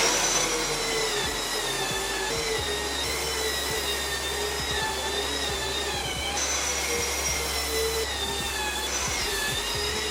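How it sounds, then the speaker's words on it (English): A loud, steady motorized whine of a drywall sanding machine running with a vacuum, a continuous high-pitched hum with occasional knocks and scrapes, no talking. "I got my sanding machine, and I got a vacuum over here"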